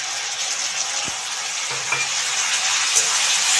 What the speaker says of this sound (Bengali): টমেটোটা দিয়ে আমি একটু ভেজে নেব